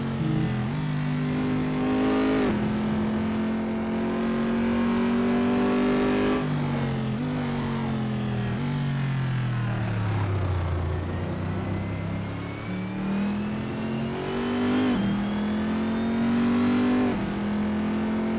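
Race car engine in the RaceRoom sim racing game, played on a Logitech DFGT wheel, revving loudly through repeated upshifts and downshifts with pitch rising and falling steadily, no talk.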